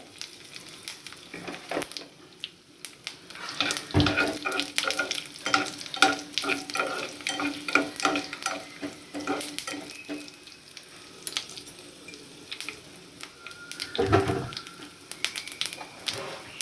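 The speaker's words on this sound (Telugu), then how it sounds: "4 ఎండుమిరపకాయలు, 3 వెల్లుల్లి రెమ్మలు వేసుకుని ఫ్రై చేసుకోవాలి" Dry red chillies and garlic cloves fry in a pan for tomato pachadi, with a steady close sizzle and repeated stirring scrapes, plus a couple of louder clatters of the spoon against the pan.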